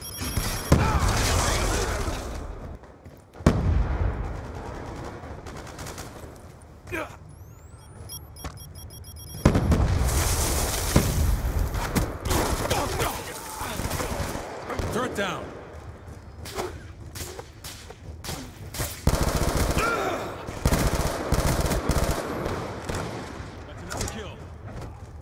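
Call of Duty Black Ops II multiplayer Demolition match on the Hijacked map, with a sticky grenade thrown amid bursts of gunfire, loud blasts and mechanical clatter, while voices speak over the action.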